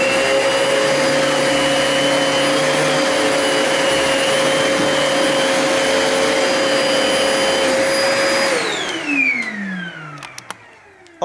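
Kenmore 81214 200 Series bagged canister vacuum with its power head running at a loud, steady whine for about eight seconds, then switched off and spinning down with a falling pitch, a few faint clicks after.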